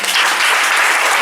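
A church congregation bursts into dense, loud applause, a close wash of many hands clapping together in a short burst.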